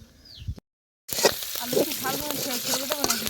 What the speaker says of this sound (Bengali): খাবো পুঁই শাকটা আমি এবারে ঢেলে নেব